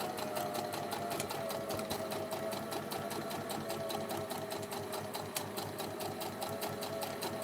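A sewing machine runs steadily while stitching a vintage purse, heard up close as a continuous fast mechanical whirring with rapid, even needle clatter throughout and no pauses.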